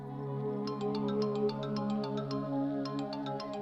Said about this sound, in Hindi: फोन बज रहा है तुम्हारा।